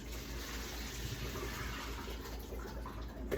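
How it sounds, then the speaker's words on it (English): Water pouring out of a pot through a strainer, a soft continuous gushing and splashing heard up close at low volume. "Okay, so I'm gonna go ahead and drain it real quick."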